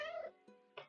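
A cat meowing in Minecraft: one clear, drawn-out meow followed by two short chirping mews, close and fairly loud, with no talk.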